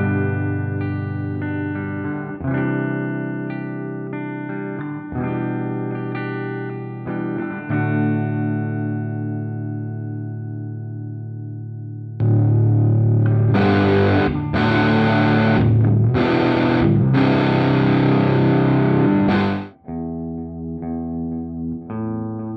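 Electric guitar run through AmpliTube 5 Max amp-simulator effects plays sustained clean chords with chorus, then shifts to a louder distorted riff of chugging bursts before returning to lighter ringing notes, all up close with no talking.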